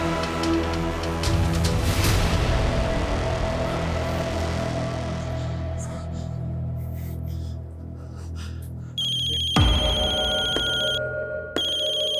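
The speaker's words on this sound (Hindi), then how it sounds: "किसका फोन है" A phone ringtone kicks in near the end, a bright repeating electronic melody that rises out of loud, dense music playing underneath.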